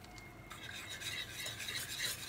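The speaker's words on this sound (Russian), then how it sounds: "Добавляем муку и быстренько перемешиваем." Quick stirring of flour into a lasagna sauce in a pan, a steady close scraping swish with a faint sizzle underneath, continuous and brisk for the whole stretch.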